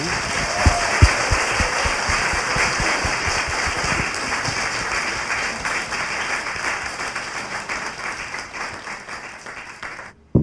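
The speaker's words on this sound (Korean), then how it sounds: "박수 한번 주세요" An audience breaks into sustained, dense applause that lasts about ten seconds, loud and even at first, then slowly thinning before it cuts off.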